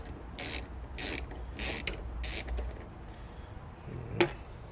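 Ratcheting on the air box of a Chrysler 2.7L V6 engine: four quick buzzing clicks of a ratchet wrench in close succession, then a single sharp metallic knock, with garage noise behind.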